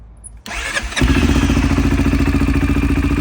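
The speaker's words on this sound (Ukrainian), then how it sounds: "Зібрали нарешті цього квадрика. Пробуємо заводити." A quad bike (ATV) engine, just repaired after a decompressor fault, cranks briefly, catches after a short stutter, then settles into a loud, close, steady idle.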